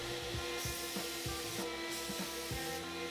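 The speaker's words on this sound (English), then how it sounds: "dial in the fan pattern on my spray gun" Bursts of a paint spray gun hissing onto cardboard, each pass a few seconds apart with a steady background whir between them.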